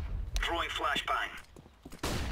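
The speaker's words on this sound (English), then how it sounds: "Throwing flashbang." A flashbang grenade thrown in a first-person shooter game, with a sharp bang followed by a ringing, warbling tone and a few muffled thumps, close and loud.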